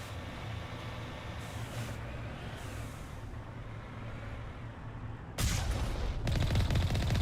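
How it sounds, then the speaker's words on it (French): Gunfire in the video game Mass Effect: a steady mechanical rumble gives way to a loud burst of rapid shots and a sustained crackling volley toward the end, with no voices. "Là j'ai tiré un petit peu trop tôt."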